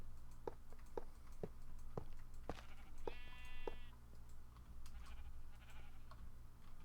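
Minecraft sheep in an FTB modpack game giving a short bleat amid quiet regular ticking, faint and mid-distance, no talking.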